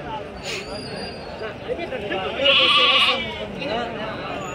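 Rams and sheep bleat at a busy Saturday lamb market in Angallu, a loud nasal call rising over a steady crowd hubbub while people talk nearby.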